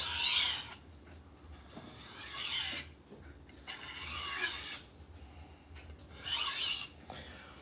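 Knives drawn across a coarse sharpener before moving to a whetstone, four long rasping strokes with brief pauses between, close and steady.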